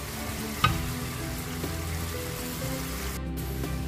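Coconut milk curds (latik) fry in their own separated oil as they are stirred toward an even golden brown, giving a steady close sizzle with a single sharp clink near the start.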